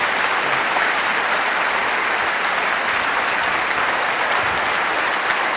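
Sustained, dense applause from an audience fills the room at a steady, loud level throughout, with no speech over it.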